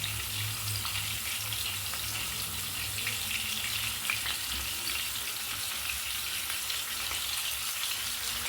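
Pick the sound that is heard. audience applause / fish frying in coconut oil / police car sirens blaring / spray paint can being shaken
fish frying in coconut oil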